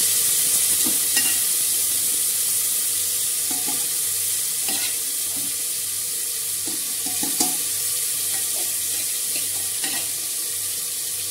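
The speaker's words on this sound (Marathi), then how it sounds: "चिकन चांगलं परतवून घेऊ आपण आता." Marinated chicken sizzling in hot oil in a pressure cooker while being stirred, with a steady frying hiss and occasional spoon scrapes and clinks, and no talk.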